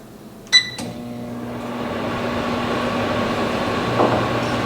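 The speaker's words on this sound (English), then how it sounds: "So it just goes in the microwave like this" A microwave oven running: a steady low electric hum with a constant drone, opened by a couple of sharp beeps and a clunk, running on alone without talk.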